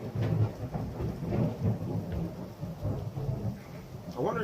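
Thunder rolling through a rainstorm, with deep rumbles swelling and fading repeatedly over a steady patter of rain, fairly close and moderately loud without talk.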